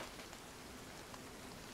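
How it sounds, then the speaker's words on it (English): Steady rain in the video game The Division 2 hisses evenly and softly, a constant wash of falling drops with no other sounds or voices. "I like the rain in this game."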